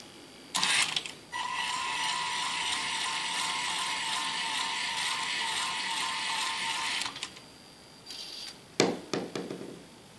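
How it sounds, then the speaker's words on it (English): A TETRIX PRIZM MiniMAX robot drives its motors and gears in one steady whirring, whining run of about six seconds, with close mechanical clicks and clunks before and after and no talk. "he should rotate, find the red line, or find the line that leads to the red cylinder, and then drop the ball"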